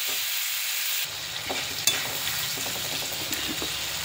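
Potatoes fry with spices in a hot pan, a steady sizzle with the scrape and clatter of a spatula stirring through them, close and alone without talk.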